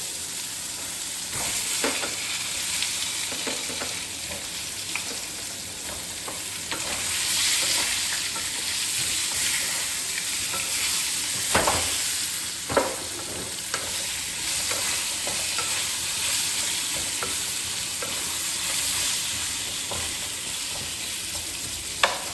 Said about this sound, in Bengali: যেই এটা ফোড়ন হয়ে গেল, দেখুন সব ফুটছে, তখন বেগুনগুলো ছেড়ে দেব।